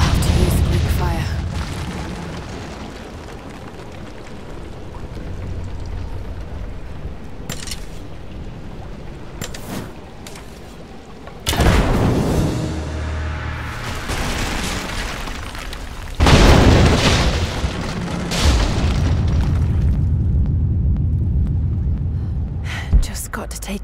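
Greek fire vessels exploding in Rise of the Tomb Raider, heavy booms with rumbling debris and crumbling stone as a statue's supports give way, loud amid game music, with a voice over.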